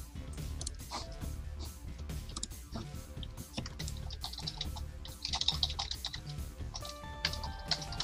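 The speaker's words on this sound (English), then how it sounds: "I can hear your keyboard" Fast clicking keystrokes on a computer keyboard, a continuous busy pattern of taps and clacks heard fairly close during a quiet moment on a voice call.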